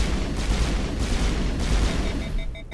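Burst pistol firing in Mass Effect, a dense run of rapid gunfire and booming impacts under game combat noise, loud and continuous, with a few tonal beeps near the end.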